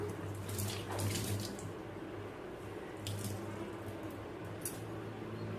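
Splashing and sloshing of water at a sink as an item is washed, then squeezed and wrung out, with soft squishy drips close by, no talking.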